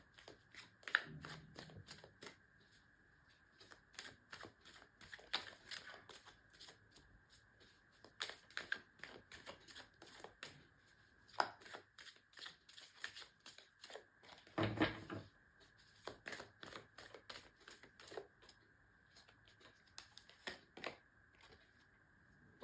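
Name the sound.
shuffling tarot cards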